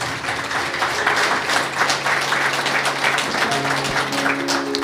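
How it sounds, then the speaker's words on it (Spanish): Congregation applauding during a church service, a continuous crowd of clapping hands at steady loudness, with faint tonal music or hum sustained underneath. "Fuerte aplausos a Cristo Jesús"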